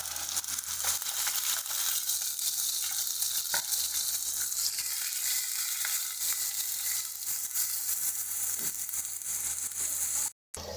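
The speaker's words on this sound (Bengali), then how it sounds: "দেখো পেঁয়াজটাকে কিন্তু ভাজতে ভাজতে খুব সুন্দর একটা কালার আসছে, হালকা গোল্ডেনিশ।" Onion paste fries with whole spices over low heat, a continuous dense sizzle and crackle up close, with faint stirring scrapes, cutting out abruptly near the end.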